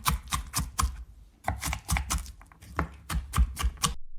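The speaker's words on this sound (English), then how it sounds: "I've peeled 6 apples. Should I dice them now?" A knife dices peeled apples on a cutting board, making quick, firm chopping knocks in rhythmic bursts separated by short pauses, close and loud with no voices.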